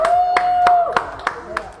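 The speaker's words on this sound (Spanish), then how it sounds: "un aplauso por favor a todos los amigos de La Crianza" Steady, evenly spaced hand claps, about five sharp beats, ring out as applause for the La Crianza team during a live shopping stream for AgroSuper and Jumbo, with a sustained voice-like tone underneath the first half.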